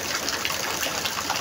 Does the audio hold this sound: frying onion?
no